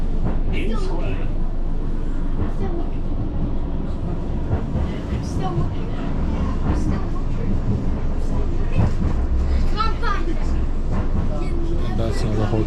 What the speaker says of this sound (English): This tram is for Fleetwood Ferry.